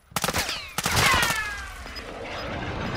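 Gunfire in Warzone 2.0, several sharp shots in quick bursts near the start and around one second, followed by fading reverberant echoes and a lingering rumble.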